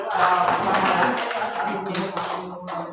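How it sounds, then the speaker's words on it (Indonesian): Classroom applause for a student presenter after a short-story structure lesson, a dense burst of many hands clapping at once that starts strong and fades gradually, with voices mixed in. "kita berikan aplaus untuk presenter"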